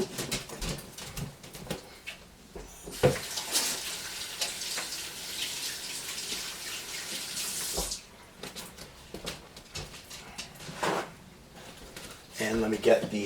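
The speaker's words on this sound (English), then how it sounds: "So let me just wash my hands real quickly." A tap runs steadily into a sink while hands are washed, a broad hiss of flowing water that stops and restarts with splashes, close by, with a voice talking over parts of it.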